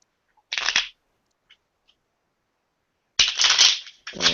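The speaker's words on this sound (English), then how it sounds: "Let me shuffle this one." A deck of playing cards is shuffled in two crisp, riffling bursts, a short one first and then a longer flurry after a pause, close and fairly loud.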